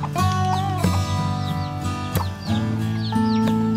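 Free-range village chickens cluck and call close by, a busy overlapping chorus of short clucks and drawn-out calls from several birds with no talk.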